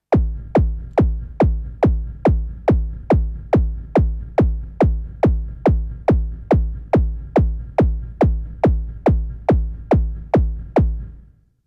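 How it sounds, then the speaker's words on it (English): A Korg Volca Drum kick patch called Hardcore Warehouse Kick repeats as a steady train of about twenty-five punchy, booming kicks, each with a sharp click and decaying low tail, loud and alone until it fades out. "we have one called Hardcore Warehouse Kick"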